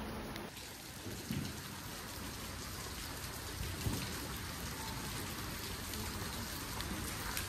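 Steady, dense rain hisses continuously throughout, a close, even downpour with no voices and only slight swells in intensity.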